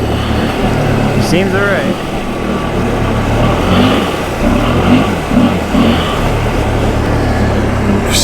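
A 2020 Can-Am Outlander XMR ATV with a swapped-in 850 engine runs steadily while being ridden, its rough, close engine note rising slightly in spots, with someone speaking briefly over it.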